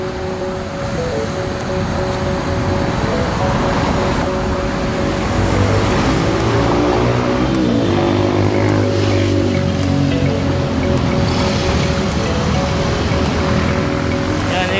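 Night traffic on EDSA in Manila, a steady wash of engines and road noise with passing cars, tonal motor hums and a low vehicle drone rising midway, all continuous and fairly close.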